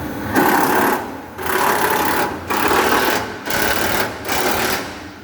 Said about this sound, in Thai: ช่างก็กำลังยิงน็อตครับ ทางละสามตัวเรียบร้อย